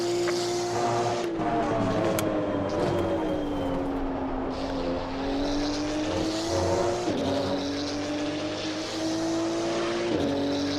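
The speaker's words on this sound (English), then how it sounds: "Porsche exterior sound is always good, isn't it?" Porsche GT2 race car heard from outside in a racing game, a loud revving engine whose pitch climbs and drops sharply with gear shifts, tire squeal and other cars around, no talk.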